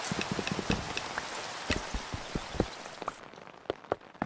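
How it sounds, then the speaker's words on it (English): Rain pattering in modded Minecraft, a dense hiss of drops with sharp individual taps scattered throughout, fairly loud and steady with no talk. "Oh, it's raining. That's not good."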